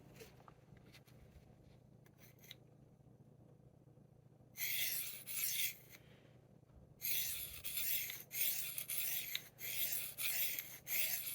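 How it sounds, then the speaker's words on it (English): A knife blade is drawn across a Spyderco pocket sharpening stone on its coarse CBN side, giving faint, dry rasping strokes after a quiet pause, first two short passes, then a run of steady repeated scrapes. "So I'll sharpen here and then we'll talk more about it."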